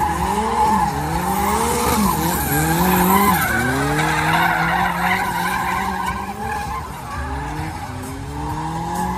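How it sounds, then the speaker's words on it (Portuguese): Drift cars skid at a Brasília drift championship round, tires squealing in long rising and falling sweeps over loud engine roar, continuous and close for the whole stretch. "Ó, o Gustavo em drift, moleque"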